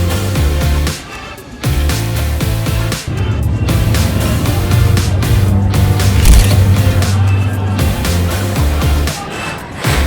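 Mechanical clatter and rumble aboard the Mummy ride at Universal Studios, with ratcheting and creaking machinery, booming low effects and shifting roars that surge and drop, loud and continuous throughout.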